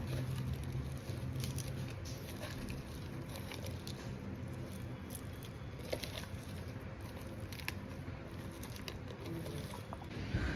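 Heavy rain drums and patters on a surface in a continuous, fairly quiet wash of droplets, with no speech.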